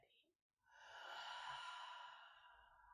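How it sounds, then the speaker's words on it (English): A slow, airy exhale during a gentle yoga breathing practice, a single soft breath out that swells and fades over a couple of seconds, quiet and close with no talking. "and exhaling when you're ready."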